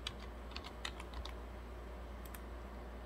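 Computer keyboard typing at a car repair bench while searching for a 2016 Audi Q5 coolant pump code: a few scattered, light key clicks over a steady low hum, with no voices.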